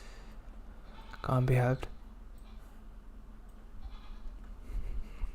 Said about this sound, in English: Ignore the goat in the background.